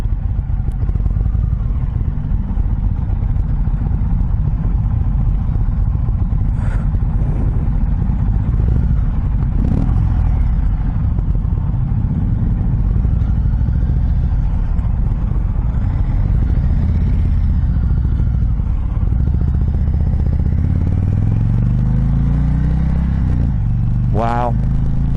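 A 2021 Indian Chieftain Darkhorse motorcycle engine rumbles loudly and steadily while riding, with wind noise and a rising rev toward the end; a rider talks over it at times.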